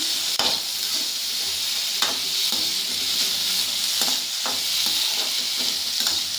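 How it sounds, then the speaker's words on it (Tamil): Food sizzles steadily in hot ghee, a constant crackling hiss, with occasional scrapes and taps of a spoon stirring the pan while making pineapple kesari. "அதிலே நல்லா வதக்கி"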